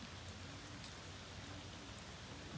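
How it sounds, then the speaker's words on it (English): Heavy rain falls on a rainy day, heard as a faint, even, continuous hiss of drops with no pauses and no voices. "heavy rainy day today"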